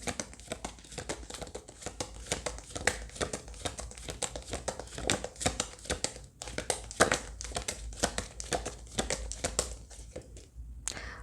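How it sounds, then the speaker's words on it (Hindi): Tarot cards being drawn out and handled make a quiet, close, steady run of papery rustling and quick flicks, with no talk. "चलिए हम सारे कार्ड्स निकाल लेते हैं"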